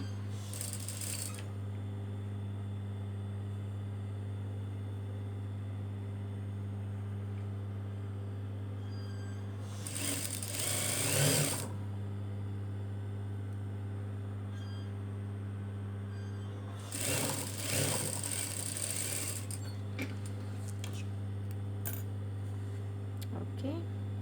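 A sewing machine stitches a kimono-style sweetheart dress in three short runs separated by long pauses, over a steady electrical hum in a quiet room.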